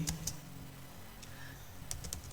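Computer keyboard typing in a word-processing lesson: a few scattered, fairly quiet key clicks with short pauses between them, over a low steady background hum.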